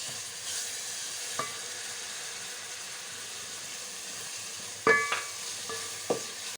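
Tomatoes frying in a pan for pav bhaji, a faint, low steady sizzle with a few short clicks and taps of a utensil near the end.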